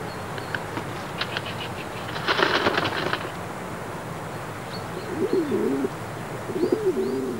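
Wood pigeon cooing in a forest, soft repeated coos late in the clip, following a burst of rapid chirps, all over a steady hiss of woodland ambience.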